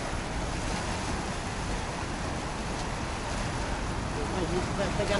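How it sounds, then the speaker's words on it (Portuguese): The strong current of the Seine in Paris rushes against a bridge pillar, a loud, continuous roar of churning water mixed with wind buffeting the microphone throughout. "A força da corrente ali no pilar."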